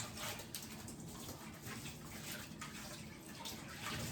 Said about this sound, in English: A lot of it's just rinsing it off.